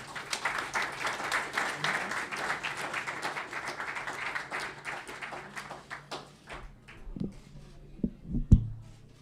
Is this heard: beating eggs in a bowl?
no